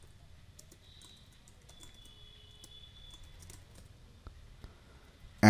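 Quiet keyboard typing while writing JavaScript code, light scattered key taps at low level in a calm room, with a louder knock or click at the very end.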